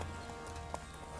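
Quick hoofbeats of a horse galloping in the Dynasty Warriors 6 video game, a short rapid clip-clop over a constant game background.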